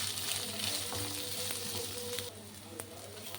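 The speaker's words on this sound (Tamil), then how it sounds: "அதுக்கு நான் ஆனியன் வந்து இங்கே ஆட் பண்ணிக்கிறேன். இது நல்லா ஃப்ரை ஆகட்டும்." Onions frying in a pan for a potato gravy, a steady close sizzle and crackle throughout that drops slightly in level partway through, with no voices.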